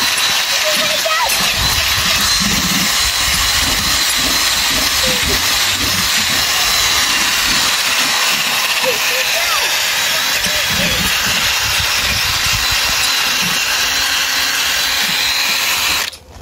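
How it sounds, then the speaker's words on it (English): A power tool with a plain buffing pad polishes a gold metal rail, a loud continuous whirring grind with shifting pressure that runs nearly the whole time before cutting off at the end. "Polish it now, just a plain buffing pad and this gold rail."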